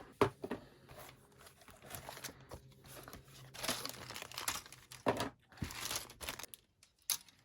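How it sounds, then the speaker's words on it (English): A model kit box being opened and its plastic contents handled: close, irregular crinkling and rustling of packaging with crisp tearing-like bursts, quiet but continuous. "Top opening box, and let's have a look what you get inside."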